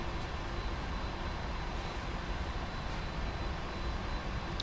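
A KLM 747-400 taxis in the Prepar3D flight simulator, its engines giving a steady, broad rumbling whine that stays constant and moderately loud throughout, with no voices.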